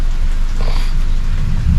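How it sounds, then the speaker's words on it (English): Rain falling steadily during a thunderstorm in Foley, Alabama, a dense continuous wash with low rumbling underneath, loud and close throughout. "I wanted to let you hear the rain and the crack of the lightning if it comes back."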